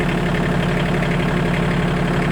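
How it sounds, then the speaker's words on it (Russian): A cold ISEKI GEAS21 compact tractor engine idles steadily as it warms up on a chilly, windy day, a close, even diesel-like rumble with a faint rhythmic knock and no talking. "Немножко нужно прогреться нашему трактору."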